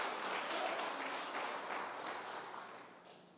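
A church congregation applauding during a sermon, a steady wash of many hands clapping at moderate level that slowly fades toward the end.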